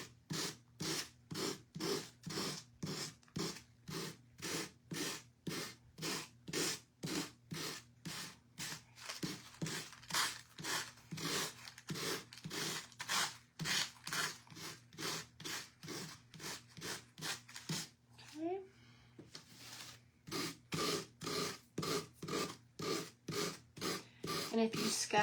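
Steady back-and-forth sanding strokes scrape tissue paper off the edges of a Dollar Tree pumpkin, a regular rhythmic rasping that repeats close up for the whole stretch with a brief pause midway.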